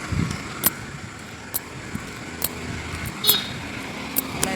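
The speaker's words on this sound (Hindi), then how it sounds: "काफ़ी शोर है ट्रैफिक का" Steady road traffic hums along an open outer road during an evening walk, with occasional sharper passing-vehicle sounds rising above it while someone talks over the noise.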